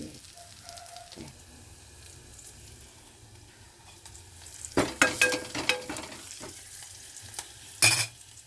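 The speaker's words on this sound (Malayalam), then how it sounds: "മോര് വറുത്തത് റെഡിയായി." Buttermilk curry being stirred in a hot pan gives a low, steady sizzle, broken after a few seconds by louder scraping strokes and a final sharp clatter near the end, with no voices.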